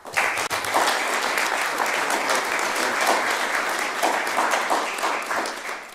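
Sustained, dense clapping fills the room at a mayor's news conference, a full crowd applauding at an even, lively level from start to finish.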